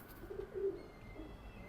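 A Ferozpuri Golden Fransa Teddy pigeon gives a short, faint, low coo, a soft brief murmur over quiet room background.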